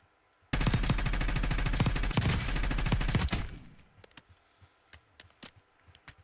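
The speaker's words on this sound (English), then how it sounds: "I'm just guessing the shots were coming from over there" Gunfire in the video game Warzone erupts as a dense, loud burst of rapid automatic shots lasting about three seconds, then tapers off into sparse scattered clicks and distant taps.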